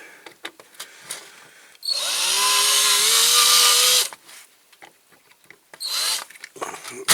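A power drill with a blunt bit whines loudly and steadily for about two seconds, then cuts out, with a second shorter burst of drilling near the end, on a Corgi Ford Thames model caravan.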